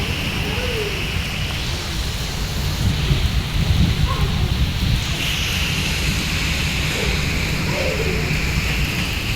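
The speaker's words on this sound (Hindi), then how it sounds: "और बहुत ज़्यादा बारिश हो रही है।" Heavy rain pours continuously in a dense, hissing wash, with low rumbling underneath and no voices.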